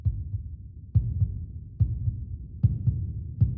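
Slow, steady heartbeat thumping in a VR video game, each beat a soft double thud repeating about every second, deep and muffled with a faint hum beneath.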